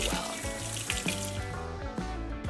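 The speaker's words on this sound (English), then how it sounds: "Soak the dal for 15 minutes. Make sure it's washed really well." Soaked red lentils being washed in water, with steady running and splashing water from a tap into a sink, fairly close and continuous with rhythmic sloshing from handling the dal.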